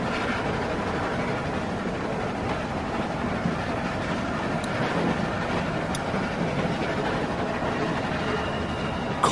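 A train rumbles along steadily in The Walking Dead video game, a continuous rolling drone with faint rhythmic clatter from the wheels and a sharp knock near the end.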